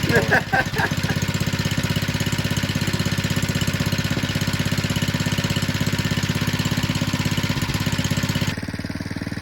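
A 97cc gas scooter engine idles steadily with a close, loud, even putter throughout, a few sharper knocks early on, and a slight change in tone near the end.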